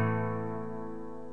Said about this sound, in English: Now if we were to play these 2 chords in tab together, this is what it would sound like.